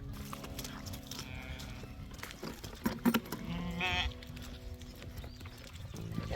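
Sheep being driven out of a pen on a wet farm driveway let out a few bleats between shuffling hooves and low background noise, fairly close and mostly quiet.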